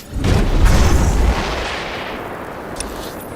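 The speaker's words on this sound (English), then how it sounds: "Because the ship's being bombarded." A starship being bombarded in Star Wars: The Old Republic, one heavy, deep explosion that booms loudly and then rumbles away into a long fading roar.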